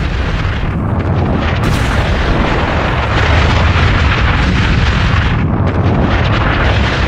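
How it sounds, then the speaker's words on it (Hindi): A submarine-launched missile strikes an Iranian ship, producing a loud, sustained roaring blast that rumbles continuously with dense broadband noise and no speech. "पनडुब्बी से आकर मिसाइल हिट हुई, पूरा जहाज पानी की लहरों और लपटों के बीच, धमाका इतना जबरदस्त था।"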